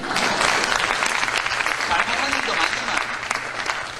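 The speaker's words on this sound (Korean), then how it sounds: "우리 김영삼 전 대통령에서 박수 한번 쳐주십시오" A crowd claps in steady, sustained applause, with a voice speaking over it.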